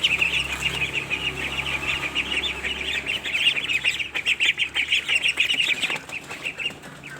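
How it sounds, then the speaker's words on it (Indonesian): Month-old crested ducklings feed on leftover rice, chopped water hyacinth and bran, with busy chirping and peeping running through the whole stretch alongside soft pecking and dabbling noises. "Sekarang kita kasihkan ke anakan bebeknya."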